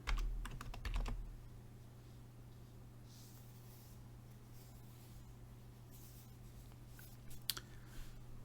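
Code being typed on a computer keyboard for a MetaTrader 4 trailing stop function: a quick cluster of close key clicks at the start, then sparse faint taps over a steady low hum, with no talking.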